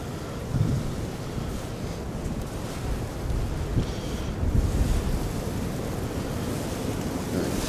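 Strong gusting wind on a very cold day roars steadily across an outdoor microphone, buffeting with louder surges throughout, no voices present.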